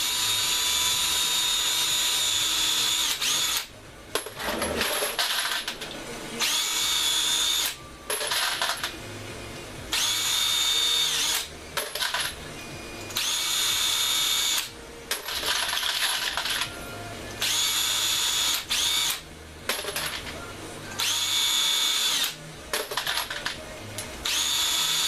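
A power drill trimming .223 brass cartridge cases whirs in repeated short bursts, starting and stopping with brief pauses between, close and fairly loud.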